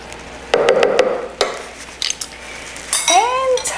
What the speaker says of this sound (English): Let's get a knife so we can scrape this properly, so nothing gets wasted.